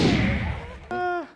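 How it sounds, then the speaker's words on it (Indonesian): A gunshot sound effect on a comedy TV show: a sharp booming blast that decays over half a second, then a short tonal electronic tone cuts in, with a faint voice nearby. "Si Andika main tembak-tembak aja nih"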